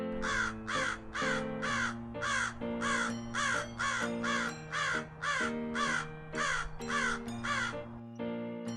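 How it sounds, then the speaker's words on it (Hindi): A crow caws loudly and repeatedly in a steady rhythm, about a dozen harsh calls over a backdrop of tonal music. "इधर शेर ने लगातार कौवे का चिल्लाने की आवाज सुनकर रुक गया।"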